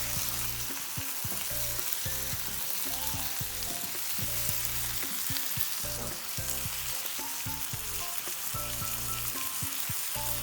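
Prawns sizzle in a pan while cooking for shea butter jollof, a steady crackling hiss with occasional stirring scrapes and knocks, with no talk.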